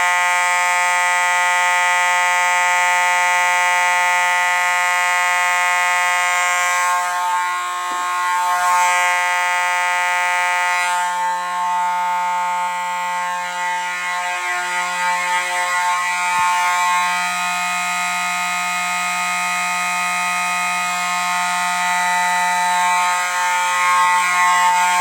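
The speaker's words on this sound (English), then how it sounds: "let's activate the fire alarm system. Let's activate it with the smoke detector." A smoke detector sets off an old fire alarm system during a test, giving a loud, steady electronic alarm tone with layered harmonics that sounds continuously for the whole stretch, with no talk over it.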